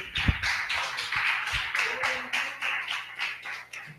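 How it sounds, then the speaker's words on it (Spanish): A church congregation claps together in steady, rapid applause at moderate volume, a continuous patter of many hands lasting the whole stretch without any voices. "Denle un aplauso al Señor."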